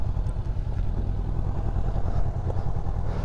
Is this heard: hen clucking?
no